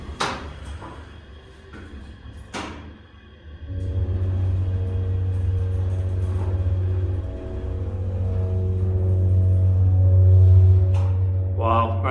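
A Dover hydraulic elevator motor at a JCPenney in Boardman, Ohio, starts with a few clunks and then settles into a loud, steady low hum that holds and swells slightly until a final click.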